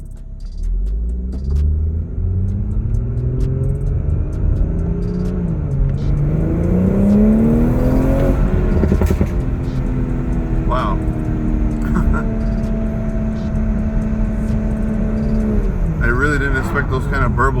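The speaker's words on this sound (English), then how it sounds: "I'll just punch it at 20 here and see how it sounds. Oh yeah, that's pretty nice. Stock tune, you get a nice backfire." A BMW B58 engine on a stock tune revs hard from a low rumble to a loud, rising roar, then settles into a long steady drone with a few crackling exhaust burbles. A person speaks over the engine.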